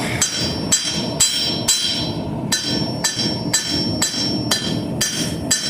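A blacksmith hammers a nail on an anvil, doing a set down and then drawing it out: about a dozen loud, ringing hammer blows at a steady pace of roughly two per second, close up, with no talk.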